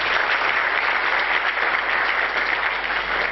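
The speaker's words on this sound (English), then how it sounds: "One more round of applause for him." Loud, even applause from an audience at a panel discussion event, a close, dense clapping sound that holds steady for a few seconds without speech.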